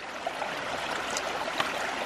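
Water rushes steadily out of the delivery pipe of a 3/4 inch ram pump installed on a hog farm, a close, continuous splashing hiss with small spurts.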